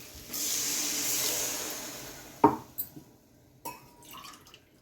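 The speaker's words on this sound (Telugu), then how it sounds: "ఇప్పుడు మనకు తగినన్ని వాటర్ వేసుకోవాలి ఫ్రెండ్స్" Two glasses of water added into a hot pan of frying brinjal, drumstick and tomato curry with chilli powder: a sizzling hiss gives way to a splash and a few drips and small clinks, close and moderately quiet.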